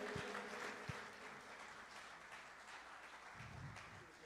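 An audience at the Auburn Knights 2025 reunion concert applauds singer Jenny St. John, a faint, steady wash of clapping with a couple of brief low thumps near the start.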